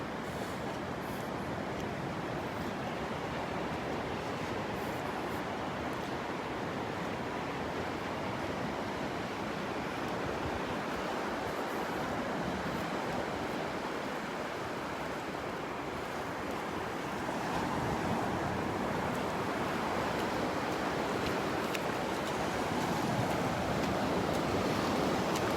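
Steady roar of ocean waves and surf on the beach at Delnor-Wiggins Pass State Park in Naples, Florida, continuous and fairly loud with wind noise on the microphone and no talking.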